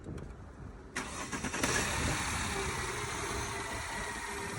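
A car engine cranks and catches after a moment of quiet, then settles into a steady, close idle, running smoothly without shaking.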